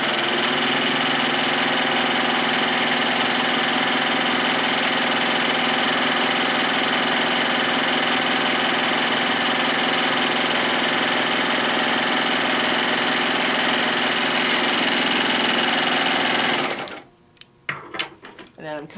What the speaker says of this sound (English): sewing all the way around.